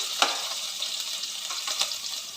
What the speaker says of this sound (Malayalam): ഇതിലേക്ക് കുറച്ച് കടുക് ഇട്ട് കൊടുക്കാം കപ്പയ്ക്ക് ഇനി നമ്മൾ അരിഞ്ഞു വെച്ചിരിക്കുന്ന പച്ചമുളകും വെളുത്തുള്ളി ഉള്ളിയും കൂടെ ഇട്ട് കൊടുക്കാം